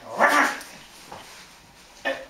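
A stage actor imitates a dog's bark with his voice during a children's Christmas theatre show at a library in Give, Denmark: one loud, close woof burst, a faint yelp in the middle and a second short bark at the end.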